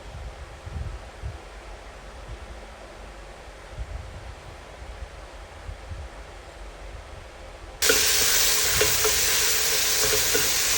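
Ginger and onion stirred in a pan, with low scraping and soft sizzle at first, then a sudden loud, steady frying hiss taking over near the end; no voices.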